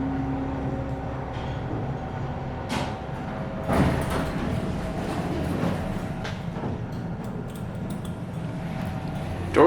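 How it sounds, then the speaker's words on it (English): A vintage Dover hydraulic elevator door slides shut inside a spacious cab installed in the 1980s, with a soft rolling rumble, a couple of clunks near the middle and a steady low machinery hum underneath, no one talking. "Door closes when you push the button."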